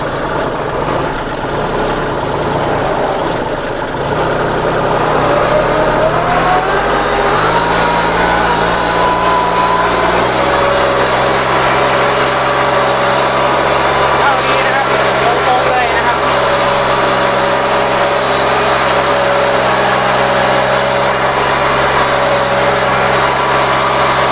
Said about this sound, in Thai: เครื่องติดง่ายนะครับ